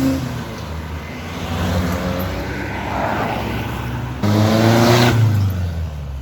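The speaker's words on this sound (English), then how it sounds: "Oh, Porsche 944." A Porsche 944 engine drones loudly nearby, its pitch rising as it revs and accelerates away, with a broad rushing roar.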